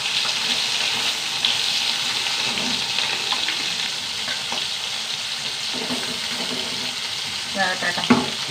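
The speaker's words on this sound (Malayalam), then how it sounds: "എണ്ണയിലേക്ക് ഇട്ടാ മുള്ളൻ" Mullan fish fries in hot oil with a dense, steady hiss close by, carrying faint watery crackle and a few sharper spits near the end.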